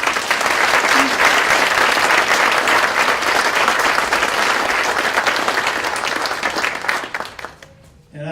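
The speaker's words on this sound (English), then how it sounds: "how about another round of applause for our panelists" A women-in-leadership event audience at Ohio University Eastern gives panelists, moderator and judge a full round of applause, loud and dense for several seconds before tapering off into scattered claps and near silence.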